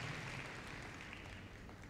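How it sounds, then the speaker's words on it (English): An audience applauds at the Crufts 2015 freestyle heelwork to music dog show: steady, faint, continuous clapping from a crowd in a large hall, with no talking over it. "Let's give a round of applause"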